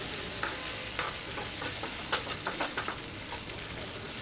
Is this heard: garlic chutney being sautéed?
yes